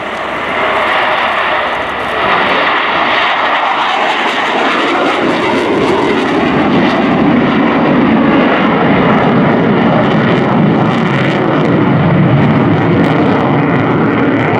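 A Sukhoi Su-27 Flanker jet takes off during an air display at RIAT 2018, its engines roaring loud and steady throughout, with a broad, continuous rumble and hiss that holds without a break.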